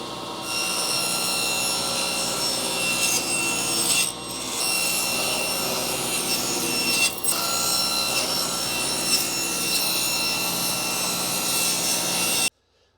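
A saw cuts a bevel along the top of a wooden box for a rotating magnetic knife block. The steady, loud rasping cut continues with brief pauses and ends abruptly.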